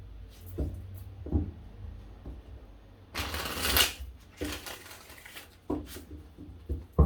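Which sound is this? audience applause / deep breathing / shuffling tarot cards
shuffling tarot cards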